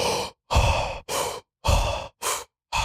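Breath of fire breathing technique: forceful, rhythmic breaths taken close to the microphone, about five loud bursts separated by brief silences, with no talking.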